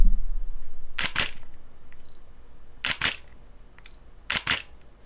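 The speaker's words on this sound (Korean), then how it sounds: "그래서 제가 진짜 한 10분의 1초로 찍어볼게요." Single-lens reflex camera firing at a one-tenth second shutter speed, three close, loud shutter actuations, each a double click with a short gap between opening and closing, separated by quiet pauses.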